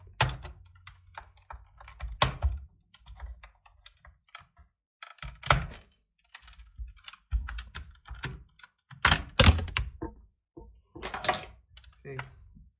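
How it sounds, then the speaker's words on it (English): A Ford Focus instrument cluster having its back cover pried off, with scattered plastic clicks, snaps and dull thunks at close range, separated by short quiet gaps, and a voice talks in places. "I will remove the back cover."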